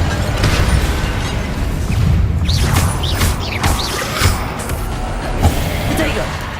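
Confringo fire-blast spell from Hogwarts Legacy gameplay: loud, dense booming blasts and crackling impacts under a busy combat soundscape, with several bursts spread across the stretch over a constant low rumble.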